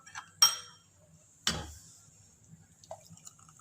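A spoon clinks against a pot while stirring a chocolate milk mixture, giving a few sharp, close taps with a quiet scraping stir between them and no talk.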